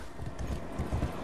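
Horse hooves clopping in the video game Darksiders Genesis, a short run of fairly loud, irregular low thuds with no talking.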